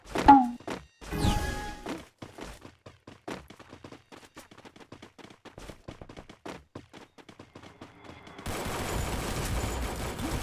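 Scattered gunshots in a Free Fire Max match, sharp isolated cracks and short bursts at moderate distance, fairly quiet overall, ending in a denser stretch of noisy firing.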